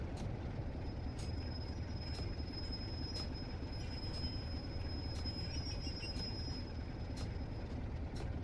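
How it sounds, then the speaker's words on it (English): Old wagons hauled by a locomotive in Train Sim World, a steady loud rolling rumble with a thin sustained wheel squeal and periodic rhythmic clicks of wheels over rail joints, heard alone. "these are very, very, very old wagons that we're hauling around"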